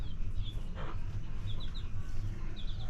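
A hen clucks softly in her nest after laying an egg, giving short, faint, repeated clucks over a steady low rumble of background noise, with no talk.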